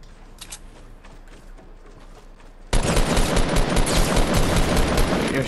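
Fortnite Battle Royale video game gunfire: scattered distant shots give way to loud, continuous automatic gunfire, rapid bursts roaring nonstop through the second half.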